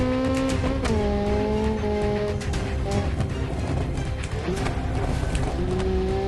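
A car in the BeamNG.drive video game downshifting hard: the engine note steps down through gears with sharp revving blips and some tire squeal, loud and continuous.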